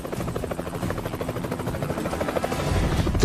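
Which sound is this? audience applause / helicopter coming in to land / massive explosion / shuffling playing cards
helicopter coming in to land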